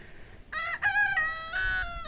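A rooster crows nearby, a loud drawn-out cock-a-doodle-doo in several rising and falling segments after a moment of quiet.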